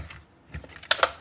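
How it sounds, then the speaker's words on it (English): A mini cut-and-emboss die-cutting machine being handled, a few close, crisp plastic clicks and clacks in a quick irregular cluster over a quiet background. "I'm going to take my mini cut and emboss machine"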